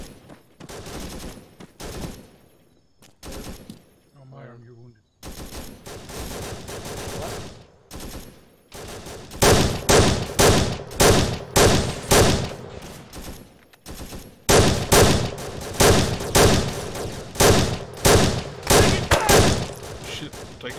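Gunfire in ARMA 3 with the Unsung mod during a village assault: sparse shots at first, then heavy, loud volleys of rapid rifle and machine-gun fire in repeated bursts, with a radio voice speaking early on.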